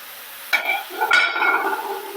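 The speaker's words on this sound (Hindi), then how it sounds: "एक बार फिर से बहुत अच्छी तरह चम्मच चला दूंगी।" A spoon stirring chicken pieces with bones and dry spices roasting in a pan, two close scraping strokes over a steady background hiss of frying.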